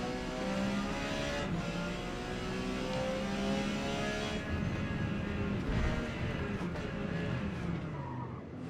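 A Porsche 956 race car in Forza Motorsport at Homestead Miami roars steadily through a corkscrew section, its engine note shifting with revs and tires squealing as the car slides on cold tires, loud and continuous throughout.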